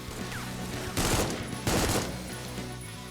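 Gunfire in a GZDoom-based indie shooter comes as two short automatic bursts about a second apart, rising out of a steady bed of game music and ambience at moderate loudness.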